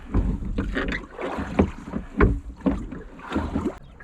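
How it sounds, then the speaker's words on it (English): Oars working a small sailing dinghy on open water in the Swedish archipelago, giving a steady rhythm of splashing strokes and creaks close by, over wind buffeting the microphone. "So I think I have to better take to the oars."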